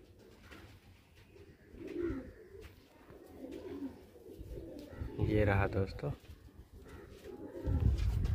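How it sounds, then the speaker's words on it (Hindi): Pigeons coo softly in a low, throaty murmur beneath a man's speech, with a brief rustle of wings or movement nearby. "वहाँ पर आकर कबूतर अभी अभी बैठा है"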